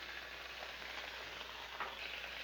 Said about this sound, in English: And listen to the sizzle.